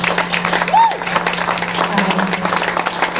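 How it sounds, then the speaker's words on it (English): Audience applause at a regional music event in Youngstown: clapping from a crowd with a cheer or whistle rising above it early on, and a steady hum underneath. "So I want to give them a round of applause"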